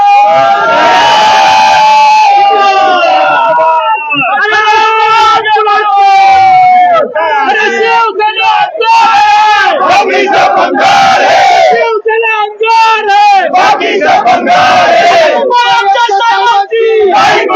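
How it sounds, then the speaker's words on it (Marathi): Shiv Sena (Thackeray group) workers celebrate outside Shiv Sena Bhavan in Mumbai after candidate Anil Desai's win: a loud, dense crowd roars, chants and shouts nonstop at close range, with voices rising in surges throughout. "कार्यकर्त्यांचा जल्लोष तुम्ही बघू शकता"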